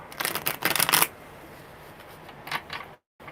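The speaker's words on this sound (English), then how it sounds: "this is the last good shuffle" Tarot cards riffled in a quick shuffle, a close burst of papery flutters in the first second, then a softer short riffle near the end.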